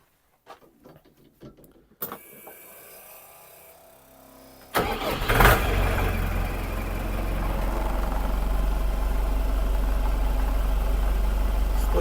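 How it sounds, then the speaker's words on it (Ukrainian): After a few clicks and a brief whir, a Skaut 404 tractor engine cranks and catches with a burst, then settles into a steady, rumbling idle that grows slightly louder. "зараз моторим трактор, підчіплюємо фрезу, міняємо мастило і будемо сіяти"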